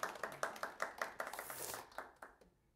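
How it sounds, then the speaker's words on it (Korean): An audience claps in unison at a Korean history lecture, a dozen or so sharp, evenly spaced beats that quicken and grow ragged before trailing off, fairly close and with no talk over it. "우리 분발 좀 하시도록 박수 한번 치세요."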